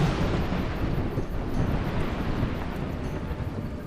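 Rumbling thunder during rain in a forest in the game Run, Run Away Abby, a low, sustained roll that swells and slowly fades, blended with windy noise and no voices.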